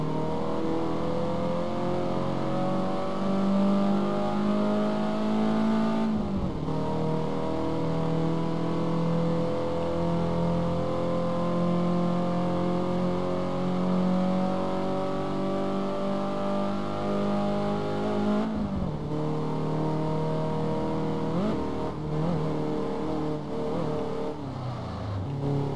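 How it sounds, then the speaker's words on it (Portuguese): A classic convertible Ferrari in the racing game Test Drive Unlimited 2 accelerates from a standstill, its engine climbing steadily through the revs with gear shifts around the middle and again near the end, loud and close. "eu tenho que aprender a arrancar com esse tipo de carro, né?"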